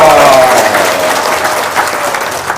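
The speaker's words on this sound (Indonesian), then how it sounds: "Tepuk tangan dong." An audience bursts into applause, a dense wash of clapping that starts loud and stays full for a couple of seconds before tapering slightly.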